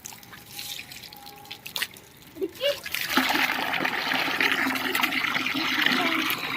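Water gushes from a pipe at an outdoor Holi celebration, a steady pouring rush that swells in after scattered drips and splashes and keeps running near and loud, with faint voices in the background.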